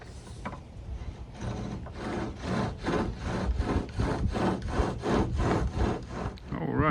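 A bow drill with a short bow spins a drill against a two-piece wooden fire board, giving a steady run of rhythmic rasping back-and-forth strokes, close and dry, about a dozen in quick succession.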